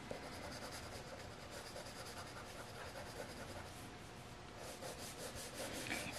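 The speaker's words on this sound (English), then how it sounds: "I'm gonna color very, very lightly with my crayon close to my monster." A crayon colors very lightly on paper, making a faint, continuous soft rubbing close by, with a few small taps and a slight rise at the end.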